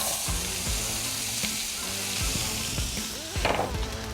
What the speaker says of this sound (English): We're gonna put this in there, stir it around, and really get them cooked up